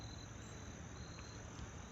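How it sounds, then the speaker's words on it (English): Crickets chirping at sunset along the Fore River, a faint steady high trill that continues throughout, with no voices. "Hear the crickets, losing the sun off to the south."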